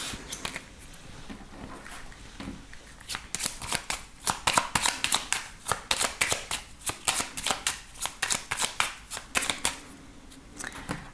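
A 32-card deck of playing cards is shuffled repeatedly close up, the crisp riffling bursts arriving in a quick, regular rhythm with a short pause partway through.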